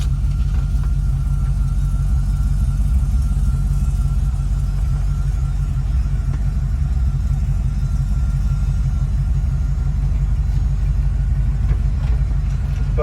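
A 1967 Chevrolet C50 truck with a swapped 5.3 LS engine cruises through a neighborhood, giving a loud, steady low engine rumble that stays constant throughout, heard from inside the cab.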